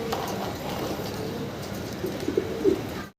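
A few soft pigeon coos sound faintly over a steady background hiss, then the clip drops to silence at the end.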